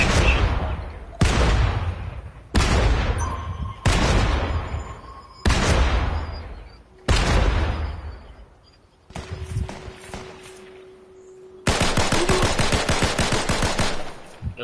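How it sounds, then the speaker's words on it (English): Bursts of rapid automatic gunfire from the Fortnite video game, several loud clustered volleys separated by short pauses, with a sustained final burst, heard alone without talk. "Stop firing, stop shooting."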